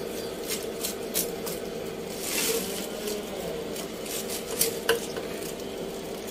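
Pangas fish skin being cut in a home kitchen, with scattered light knife clicks and scrapes against dishes over a steady low background, close and fairly quiet.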